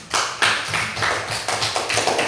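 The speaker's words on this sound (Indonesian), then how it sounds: "Kita beri tepuk tangan untuk kelompok 1 dulu." Students in a classroom clap for a group about to present, a ragged run of hand claps in uneven bursts, close and fairly loud.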